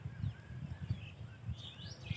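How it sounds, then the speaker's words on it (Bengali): Faint chirps and calls from many birds scattered across farm fields in a village near Munshiganj, Bangladesh, through a quiet outdoor background. "আমার পিছনে প্রচুর পাখি আছে"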